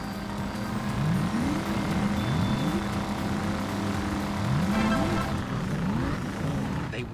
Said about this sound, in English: how the sound of passing cars at high speed